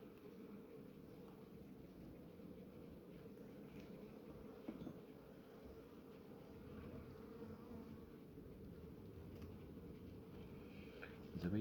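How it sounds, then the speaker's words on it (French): Honeybees buzzing at a Kenyan top-bar hive, a faint, steady, even hum that holds unbroken throughout, with a few small clinks near the end. "Les abeilles sont calmes"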